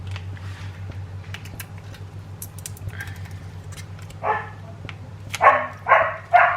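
A dog in a shaded home garden gives several short, loud barks and yips near the end, following a quieter stretch of low hum and faint kitchen clatter.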